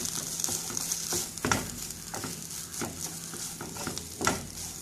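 Food with fresh coriander leaves is stirred and mixed in a sizzling pan, a steady frying hiss broken by repeated scraping strokes of a spoon at a loose rhythm, close up and without speech.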